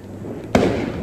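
A Diwali firecracker goes off with a single sharp, loud bang close by, followed by a short rumbling tail over quiet outdoor background.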